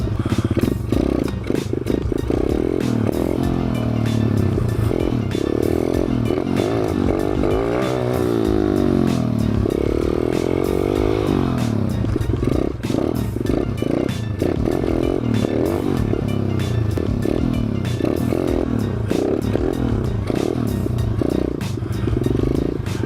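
A Thumpstar 140cc dirt bike rides wheelies across grass, its engine droning loud and steady for the whole stretch, with revs rising and falling and some clattering from the bike, heard close up.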